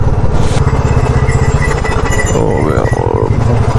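A motorcycle engine drones loud and close with a steady pulsing beat while riding on a cold mountain road toward Kedarnath, with rough clattering and wind underneath throughout.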